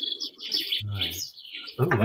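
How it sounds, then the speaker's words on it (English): Birds chirping in high, bright tweets alongside a sound machine, mixed in with close speech from a couple of voices. "listen to those birds chirping"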